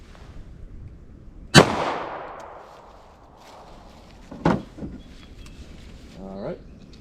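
A single sharp 9mm gunshot from a short barrel, Federal Syntech Defense ammunition fired into ballistic gel, cracks loudly and echoes away. A softer thud and some handling noises follow, then a brief voice.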